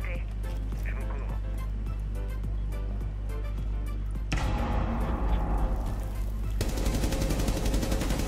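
Gunfire in the tactical shooter Rainbow Six Siege: dense, rattling bursts run through the whole stretch and grow heavier near the end, while players keep talking over the shooting.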